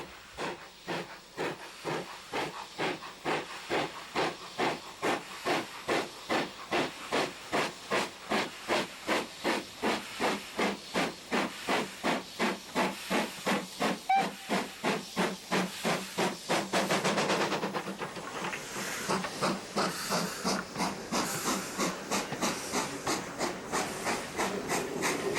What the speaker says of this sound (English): the engine fighting it is BR Standard Light Mogul 78022